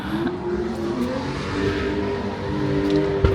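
Drifting car engine at a drift event, a steady loud roar with shifting revs and a sharp brief burst near the end, heard at a distance with no talking.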